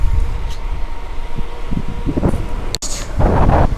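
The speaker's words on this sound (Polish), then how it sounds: "Wiatr w uszach, z górki" Steady wind rushing and buffeting across the microphone while riding downhill, with a sharp dropout and a louder gust of turbulent rumble near the end.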